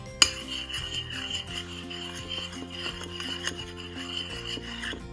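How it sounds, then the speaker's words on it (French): Fluffy slime being mixed with red and white paint, a soft, continuous rubbing and squishing with scraping strokes, faint and close, over quiet background music. "Donc après, on va venir mélanger le tout."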